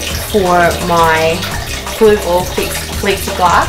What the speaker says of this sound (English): Sorry about the noise my filter makes when there's not a full tank.